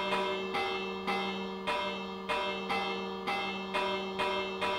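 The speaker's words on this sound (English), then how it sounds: "I'm taking that bell off you." Minecraft bell rung repeatedly, about eight evenly spaced metallic strikes roughly every 0.6 seconds, each ringing out with a decaying tone; close, clear and alone.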